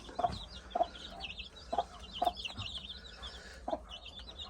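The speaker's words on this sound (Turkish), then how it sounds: "Burada civcivlerim." Soft, short clucks from a hen at irregular intervals, with faint chick chirping above, quiet and close in a calm setting.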